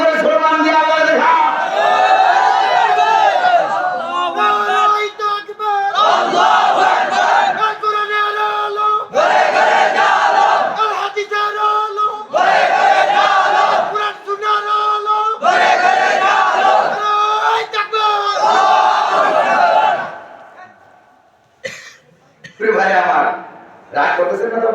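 At an Islamic religious gathering, a large crowd chants a slogan with raised hands. The loud shouts come in repeated bursts of a few seconds each, separated by brief pauses.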